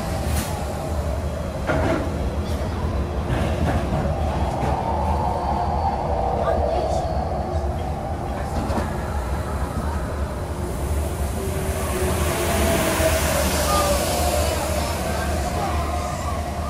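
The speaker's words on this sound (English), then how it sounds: "Please remain seated until the monorail comes to a complete stop." A Disney monorail rides toward the Tomorrowland station: a steady, continuous rolling rumble with a faint mechanical whine, heard from inside the car.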